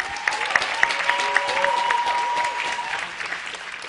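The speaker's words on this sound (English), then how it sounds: "ladies, if you will join me in a tremendous round of applause for these brothers behind me" A church congregation applauds a group of brothers standing before them, a broad continuous wash of clapping with some tonal sounds ringing through it, fairly close and steady throughout.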